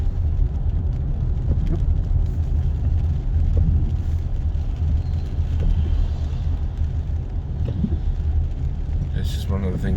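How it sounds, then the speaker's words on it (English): Steady low road rumble of cars in traffic with engine drone, heard continuously from inside a vehicle, with occasional faint passing sounds. "so there's a lot of traffic"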